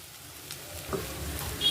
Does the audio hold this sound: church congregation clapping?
no